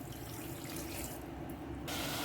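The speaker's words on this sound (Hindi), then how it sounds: "आधा कप हम इसमें पानी डालेंगे" Half a cup of water is poured into sugar in a pan to make strawberry syrup, a quiet, steady stream of running water that shifts in tone partway through.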